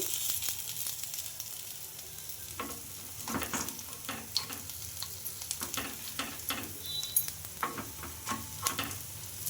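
Moong dal ponganalu fry in a covered pan with a steady soft sizzle, broken by repeated scrapes and clinks of a spoon turning them, close and moderately loud with no talking.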